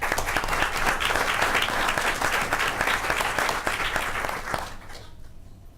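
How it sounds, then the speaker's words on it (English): Audience at a Twinsburg City Board of Education meeting claps for seventh-grade students of the month, a brisk burst of close applause that holds steady for several seconds before tapering off quickly. "We can give them a round of applause."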